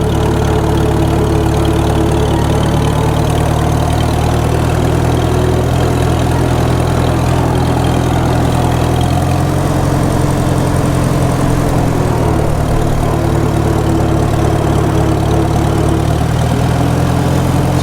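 A 1948 McCormick-Deering W-4 tractor engine runs steadily and loud throughout, a close, continuous low rumble at idle-to-working speed with no talking.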